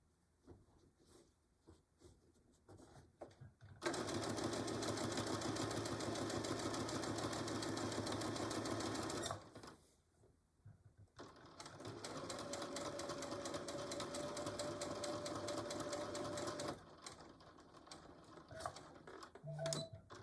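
A sewing machine stitching fabric for a Christmas pincushion runs in two long, loud steady bursts of fast mechanical whirring, separated by a brief quiet pause, with softer handling noises before and after.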